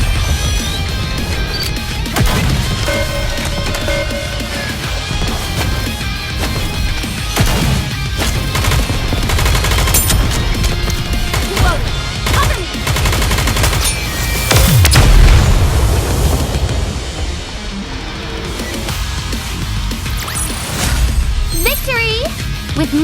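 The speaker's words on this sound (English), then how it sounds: "Target locked. Commence bombardment!" Dense video game gunfire and bombardment from Goddess of Victory: NIKKE, with loud booming blasts and rapid shots layered over game music and character voices throughout.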